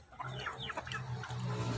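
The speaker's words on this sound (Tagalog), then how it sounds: "tinatakbo ng ating mga manok." Chickens cluck softly in short bursts over a steady low hum, close by, with a few higher calls mixed in.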